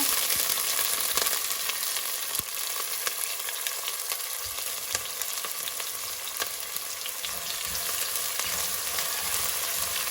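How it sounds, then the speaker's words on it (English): Onions sautéing in a pan for chicken curry, a dense, steady crackling sizzle running throughout with scattered pops and faint stirring scrapes, close and with no speech. "I'm going to saute for a little bit until the onions are translucent"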